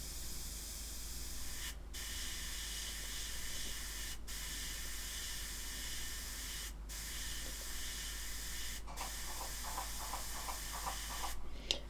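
Airbrush spraying thinned paint in a steady continuous hiss for a pin wash on a 1/72 Arma Hobby Curtiss H75 Hawk model, with a few brief pauses where the flow stops and restarts.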